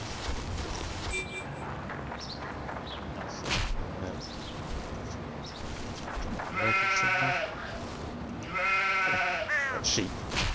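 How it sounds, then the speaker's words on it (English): Sheep bleating in the zombie video game Stubbs the Zombie, two loud drawn-out bleats in close succession over a background of game sounds and faint ambience. "Oh, sheep."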